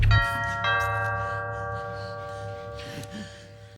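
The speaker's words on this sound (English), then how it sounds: "Then suddenly the doorbell rings." A house doorbell rings out a two-note chime, the second tone following quickly and then ringing on in a long, slowly fading resonance.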